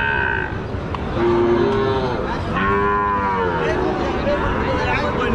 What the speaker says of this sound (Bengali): বিপুল পরিমাণ গরুর সমারোহ।